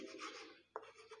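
Chalk or marker strokes scratch across a board as equations are written in a class 10 maths lesson. The short scratching bursts are faint and close, with a brief pause in the middle and no talk.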